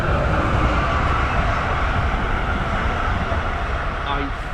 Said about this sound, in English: I think an Amtrak regional just came through.